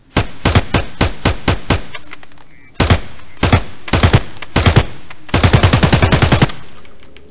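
In the video game Escape from Tarkov, a gun fires loud, close bursts of rapid shots separated by short pauses, with a long, fast string at the end, and no voices.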